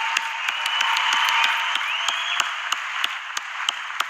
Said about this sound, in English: So a big applause goes also to you.